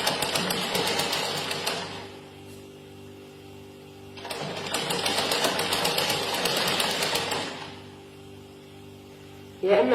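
A sewing machine stitching fabric for a child's garment runs in two bursts of rapid, even mechanical chatter close by, separated by a quieter pause, with a faint hum beneath.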